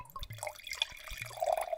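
Chilled Beringer Bros. Sauvignon Blanc 2019 pours into a wine glass with soft, uneven splashing and gurgling that swells toward the end, close and fairly quiet.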